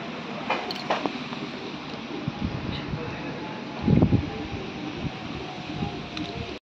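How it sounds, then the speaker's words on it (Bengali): Wind gusting on a rainy day in a rural setting, a steady rushing blow with rustling, rising into a stronger gust partway through, with no talk. "ছড় করে হাওয়া দিচ্ছে।"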